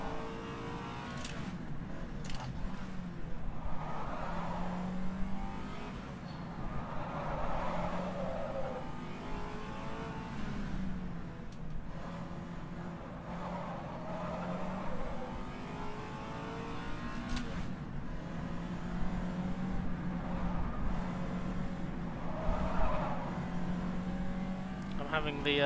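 A 1965 Ferrari race car engine in rFactor 2 on the Targa Florio road course, revving up and down through repeated gear changes with a steady mechanical drone, while a person talks over it.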